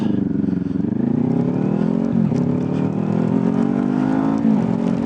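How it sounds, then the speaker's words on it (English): Kawasaki Ninja 400 and Suzuki Hayabusa motorcycles racing, their engines droning loudly and steadily with rising pitch as they accelerate, continuous throughout. "Can the Ninja 400 beat a Hayabusa? Let's find out."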